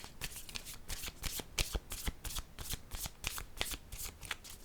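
A tarot card is laid down on a table, its soft papery slap set among a steady run of rustling, shuffling card sounds that repeat in quick, close bursts with no talking.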